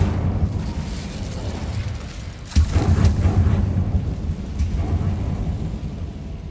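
Incendio fire spell cast in the Hogwarts Legacy video game, a loud rumbling whoosh of flame that swells suddenly and keeps roaring under low game ambience.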